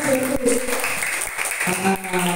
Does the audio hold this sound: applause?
yes